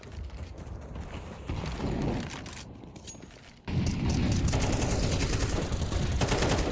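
Rapid bursts of Tec-9 pistol fire in a Counter-Strike 2 match, dense rattling shots that fade briefly before a loud, sustained volley of gunfire and game noise.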